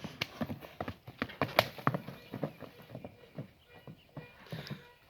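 Horse hooves clip-clop in a quick, uneven rhythm of sharp, close strikes, without a whip, from a light, easy-turning horse being shown for sale.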